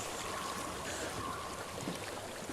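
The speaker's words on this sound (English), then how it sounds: "I hear water." Flowing water in Hellblade: Senua's Sacrifice, a steady broadband rush of a stream, constant and fairly near, with no voices over it.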